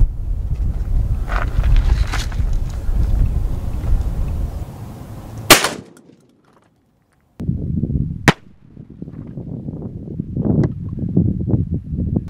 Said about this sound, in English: we're gonna be shooting some 3/4 ounce slugs at our homemade body armor